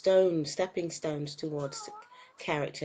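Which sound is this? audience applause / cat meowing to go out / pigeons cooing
cat meowing to go out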